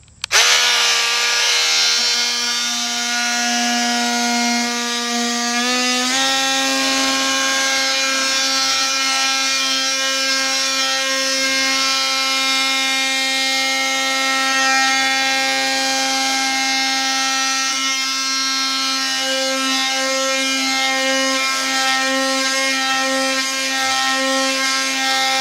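Loud, sustained high-pitched buzzing whine of a Craftsman V20 cordless oscillating tool cutting into poplar wood, close and steady with a slight pitch shift early on.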